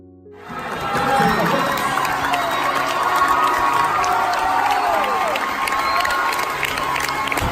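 An audience at a game erupts in loud cheering, whooping and applause as a soldier returns home to his family, the roar swelling within the first second and staying strong and crowded, with children's shouts mixed in.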